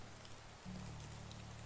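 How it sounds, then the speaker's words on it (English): Steady rain falling in the medieval survival game Medieval Dynasty, a soft continuous patter that starts faint and thickens into a fuller, even wash after a moment, with no voices. "And now it's raining."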